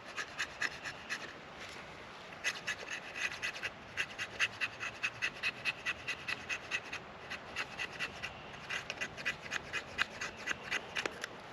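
The back of a knife scrapes shavings off a piece of fatwood in quick, rhythmic strokes, each a crisp, close scratch, repeated dozens of times without speech.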